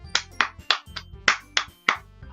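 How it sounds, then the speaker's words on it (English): Sharp clap sound effects in Doki Doki Literature Club ring out about seven times at an uneven pace, each crisp hit standing out over soft background game music. "I'm the first to start applauding"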